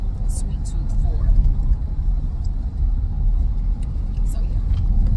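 A car drives along the road on a long trip home, with a steady low engine and tyre rumble filling the cabin and occasional faint voices underneath.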